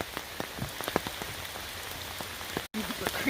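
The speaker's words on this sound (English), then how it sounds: "We may not be able to make this crossing on the way back because of all this torrential rain." Heavy rain drums on a wooded trail at Umstead State Park near Raleigh, North Carolina, a constant close patter of drops with a brief dropout near the end, and a faint voice may briefly sit under the downpour.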